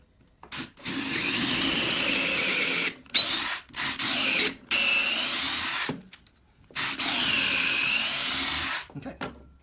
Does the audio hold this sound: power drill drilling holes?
yes